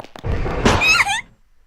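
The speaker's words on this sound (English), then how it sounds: "It was a loud, dull thud, followed by silence." A classroom door in a horror video game gives one loud, dull thud with a brief scrape, then falls quickly into silence.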